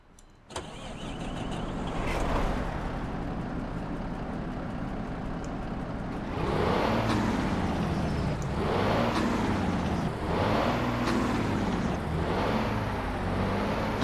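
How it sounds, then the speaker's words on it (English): A Freightliner Argosy truck engine in Euro Truck Simulator 2 cranks and starts, then idles and revs in several rising-and-falling surges, loud and close, no talking. "we'll start the engine up and see how it sounds"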